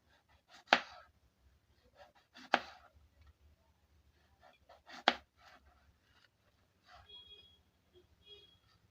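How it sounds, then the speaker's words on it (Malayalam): A knife cuts potato pieces on a board, giving three crisp, sharp chops spaced a couple of seconds apart, with softer scraping and handling sounds between them in a quiet room. "അങ്ങനെ ഈ കഷ്ണം കൂടിയും അതുപോലെ നമുക്ക് മുറിച്ച് മുറിച്ചെടുക്കാം"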